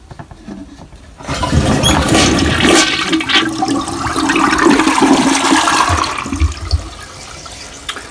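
A toilet flushes loudly and up close after a Scrubbing Bubbles gel stamp has been applied, with rushing, swirling water that starts after a second, fills most of the clip and then drains down into gurgles.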